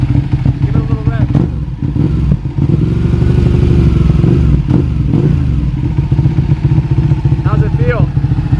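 A carbon Ducati Panigale fitted with a lightweight chain and sprockets revs up close by, a loud rough engine roar rising and falling in repeated blips, with people talking over it.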